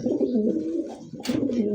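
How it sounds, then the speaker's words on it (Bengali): A German Beauty Homer pigeon coos nearby, a low, burbling, repeated call with a brief pause and a short sharp rustle partway through. "দেখেন জার্মান বিউটি ডাক দেখছেন"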